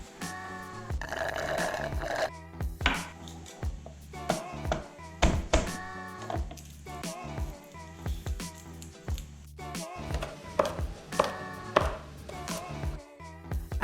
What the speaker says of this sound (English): After chopping up some garlic, I threw it into the pan.